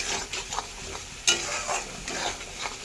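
Dried fish gravy masala being stir-fried in oil, a steady sizzle under repeated spatula scrapes and one sharper metallic knock, close by with no one speaking.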